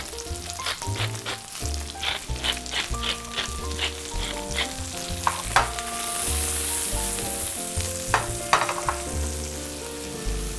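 Mushrooms and onions fry in a pan with a steady sizzle and occasional clinks of a utensil stirring, close and fairly loud, with no one talking.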